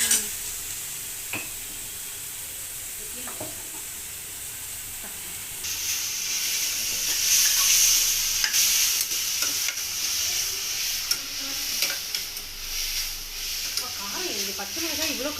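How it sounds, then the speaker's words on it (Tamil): Vegetables sauté with salt in a pan, with quiet stirring at first, then a fuller sizzle and hiss from about midway, broken by intermittent utensil clinks, with faint voices near the end. "உப்பு போட்டு வதக்கினா தான் கொஞ்சம் நல்லா மசியும்."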